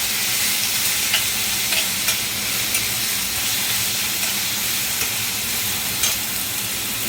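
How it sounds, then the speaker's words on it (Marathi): Tomato and curry leaves sautéed in a pan for dal khichdi, a loud, continuous close-up sizzle and hiss with faint stirring scrapes throughout. "टमॅटो, कढीपत्ता, थोडं परतून घ्यायचं."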